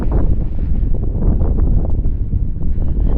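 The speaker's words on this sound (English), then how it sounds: "The wind is so strong, it'll take me away" Strong wind in Aomori roars against the microphone in a dense, continuous low rumble with gusting swells, loud and close, with no voices.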